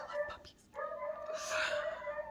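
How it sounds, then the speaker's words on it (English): A puppy heard in the background gives whining, howling yips with a sustained mournful tone, faint and distant, with no voices over it. "So if you hear that background barking"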